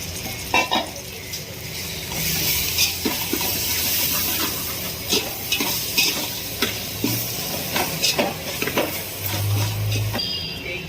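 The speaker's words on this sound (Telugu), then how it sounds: "జింజర్ గార్లిక్ పేస్ట్ 2 స్పూన్స్ వేసి మంచిగా ఫ్రై చేసుకోవాలి." Ginger garlic paste sizzles in a pan for a Telangana-style fish curry, a steady frying hiss with repeated scraping stir strokes throughout, close and fairly loud.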